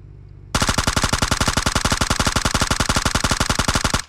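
In PUBG Mobile, a long, loud burst of automatic gunfire hits a vehicle, with rapid evenly spaced shots that start abruptly after a brief quiet moment and run unbroken for several seconds.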